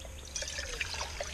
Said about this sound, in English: let's fill the billy can with some water so we can get some water to boil